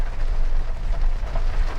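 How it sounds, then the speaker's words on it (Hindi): Heavy rain and strong wind roar as a dense, steady rush with gusty low rumbling, continuous and fairly loud without any voices. "आगे बहुत ज़्यादा बारिश है और आंधी और चल रही है अब तो।"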